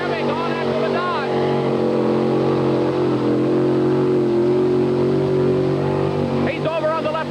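Chevy monster truck engine roaring and revving at a mud bog event, loud and continuous throughout, with an announcer talking over it.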